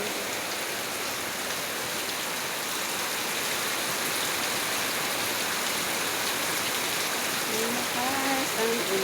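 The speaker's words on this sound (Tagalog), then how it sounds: "Malakas ang ulan, mga kasari." Heavy rain pours in a steady, dense wash of hiss and patter during rainy-season weather, continuous and loud throughout with no breaks or voices.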